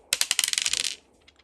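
Dice roll on a wooden Turkish tavla backgammon board from the Grand Bazaar, giving a quick burst of sharp clattering clicks that bounce and settle within about a second, followed by a few faint ticks, close and with no talking.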